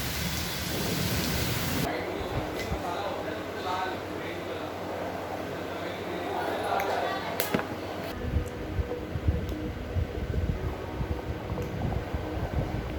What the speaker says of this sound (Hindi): बारिश देख रहे हो बाहर, मस्त बारिश हो रही है